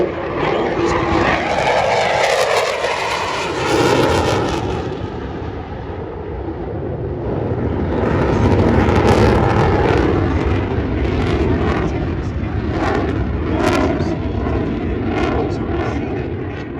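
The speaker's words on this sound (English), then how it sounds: "you will see the Thunderbirds fly these F-16s within 18 inches of one another" F-16 Fighting Falcon jets of the Thunderbirds team fly at an air show over Duluth. Loud jet engine roars swell and fade as the aircraft pass overhead, with rumbling bursts, and a commentator's voice is faintly audible.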